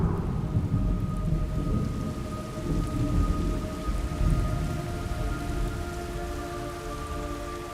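Steady rain pours down with a low rumble of thunder rolling underneath, continuous and fairly loud, with no voices, in the video game Metal Gear Solid Delta: Snake Eater.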